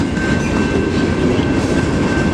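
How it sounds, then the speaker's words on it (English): Norfolk Southern freight train with loaded box cars rolls past a railroad crossing, loud and close, a continuous rumble with rhythmic wheel clatter and a thin high whine. "The end of the Norfolk Southern train."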